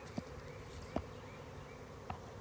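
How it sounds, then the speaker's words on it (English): A swarm of honeybees being collected outdoors fills the air with a steady close buzzing drone, broken by a few sharp ticks and bumps. "Hey, you're bringing bees over to me."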